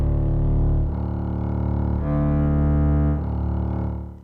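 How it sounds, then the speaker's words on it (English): KORG Wavestate synthesizer bass patch with all layers enabled, a few long, thick low notes held one after another with a buzzy, layered tone shifting in brightness between notes, loud and steady without any voice. "how our bass sound sounds with all the layers enabled, it sounds like this."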